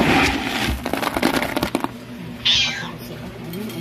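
Hungry cats meow close by for cat food, several overlapping cries in a quick run, followed by rustling and a fainter later meow.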